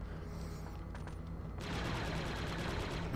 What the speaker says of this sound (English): I've got a turret that's making things difficult